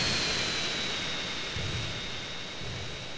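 A steady, roaring jet-like airplane engine drone with a faint high whine in the video game GTA San Andreas, continuous and even throughout, with no talking.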